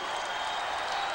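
Basketball arena crowd in Knoxville at a Tennessee home game, a steady broadband roar of cheering and clapping filling the whole brief moment without a break.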